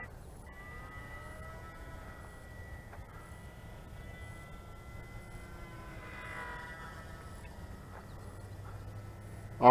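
An XK A700C Sky Dancer three-channel RC fixed-wing glider flies overhead with its electric motor under throttle, giving a thin, steady whine that stays fairly distant and faint throughout, without talk.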